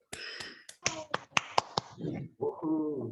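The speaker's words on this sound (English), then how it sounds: "just want to request everyone on the call to unmute their microphones and we just clap for Suzanne." A few people on a video call clap into unmuted microphones, giving a short burst of sharp, separate claps before a voice starts talking near the end.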